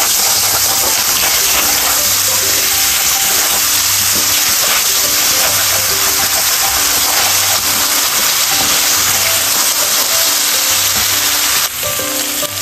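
Ginger frying in a pan for beef curry while being stirred, a loud, steady hiss with a low rhythmic hum beneath it throughout.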